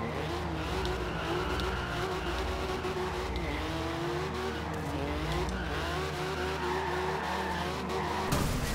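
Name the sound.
1982 Porsche 911 Turbo drifting, tires squealing, Forza Horizon 2 game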